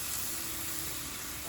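Wine hitting a hot pan to deglaze it while making paella, producing a steady, faint, even sizzle and hiss that holds throughout the short moment.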